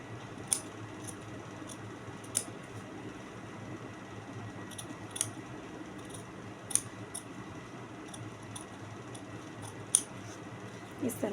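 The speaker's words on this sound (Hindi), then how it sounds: "तो यहाँ से पहले हम ये नेक काट लेते हैं अपना।" Scissors snip the neckline of fabric for a co-ord set with a series of light, sparse clicks over quiet room noise. Faint background murmur.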